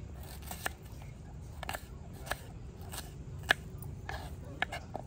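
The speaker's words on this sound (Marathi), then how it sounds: "पोहे भिजेपर्यंत आपण कांदा, मिरची, टोमॅटो, बटाटे बारीक कापून घेऊ।" A knife finely chops onion, chili, tomato and potato for kanda batata poha, producing soft, irregular crunchy cuts on a board, close by over a steady low background hum.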